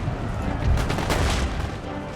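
A musket volley crackles in Empire: Total War, a ragged burst of overlapping shots building to a peak mid-way then fading into a dense battlefield rumble.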